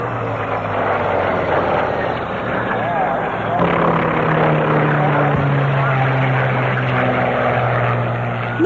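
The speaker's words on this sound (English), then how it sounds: "the aircraft was scrambled to save the day" A propeller aircraft scrambled over an airstrip drones steadily with a low engine hum and shifting pitch, loud and continuous throughout, with no talk.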